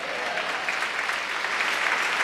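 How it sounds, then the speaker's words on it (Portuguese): Church congregation applauding during a sermon, a steady dense wash of many hands clapping together, even and sustained throughout with no voices standing out. "Pode aplaudir Jesus?"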